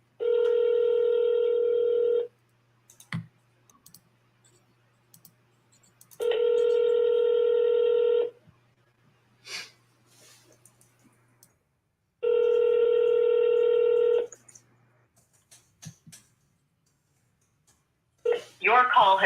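A telephone call rings out with three long, loud ringback tones separated by pauses, with faint clicks between them and a voice starting at the very end.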